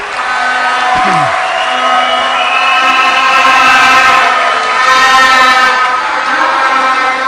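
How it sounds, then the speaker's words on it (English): Political rally crowd at a UNC event in Guaico cheering and whooping for candidates, loud sustained cheers rising and falling in waves over a steady tonal horn-like drone, with a sharp knock early. "Let's really give a big round of applause to all these wonderful candidates here today"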